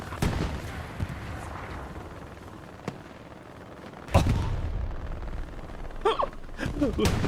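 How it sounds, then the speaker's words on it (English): A rocket explosion in the WWII shooter Hell Let Loose, a heavy blast booming out midway over rumbling battlefield ambience, with distant gunfire and a voice briefly heard near the end. "Whoever was in that trench just got absolutely cooked by a rocket"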